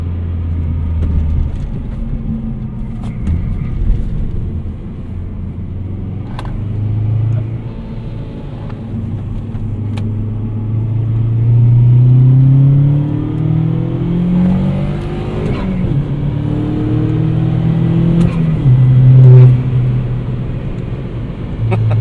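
A 2008 Chevrolet Cobalt SS turbocharged car accelerates through corners, its engine note rising and falling in long revving sweeps over a steady low rumble heard from inside the cabin, with brief speech at times.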